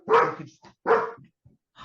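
Dogs barking nearby in two loud, full barks about half a second apart, with a few softer yips and whines between them and another bark starting at the end.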